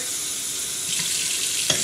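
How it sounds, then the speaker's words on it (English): Tap water runs steadily into the bottom chamber of a coffee percolator, a soft continuous rush that rises slightly partway through, with a brief clink near the end. "We're now going to take our bottom portion and fill it up with water"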